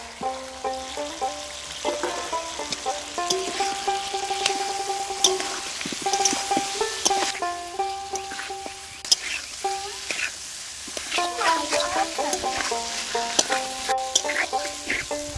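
Pointed gourd and potato frying in spice paste for a Bengali fish curry, with a steady close sizzle and repeated stirring scrapes of the pan throughout, no talking.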